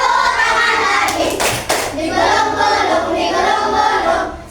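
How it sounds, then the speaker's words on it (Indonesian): Rhythmic hand clapping along with a sung children's action song in a classroom setting, a steady run of claps under the singing, with a voice leading the song. "Buka tutup tepuk tangan lagi."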